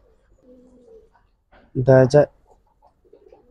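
A giribaz pigeon gives one short, loud coo close by, with someone talking quietly before and after it.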